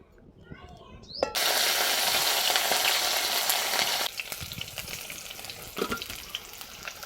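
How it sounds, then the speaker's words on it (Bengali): Garlic goes into hot oil in a wok with a sudden loud sizzle that stays bright and strong for a few seconds, then settles into quieter crackling frying. A voice talks briefly just before. "তেলের মধ্যে এবার রসুনটা দিয়ে দেব"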